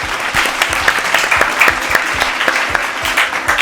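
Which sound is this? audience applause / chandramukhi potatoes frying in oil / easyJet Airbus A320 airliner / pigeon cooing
audience applause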